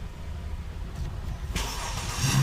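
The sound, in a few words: car engine starting and running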